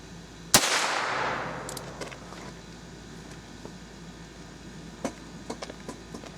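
A single sharp .22 LR gunshot fired with a CCI Stinger 32 grain copper-plated hollow point round, close and loud, with a short outdoor decay and then a few faint clicks.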